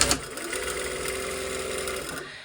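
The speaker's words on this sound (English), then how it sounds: "I'm just going to sew those together using whichever seam allowance I pattern made." A sewing machine runs in one continuous burst, stitching a fabric seam on a slash pocket, a close, steady mechanical whir of about two seconds.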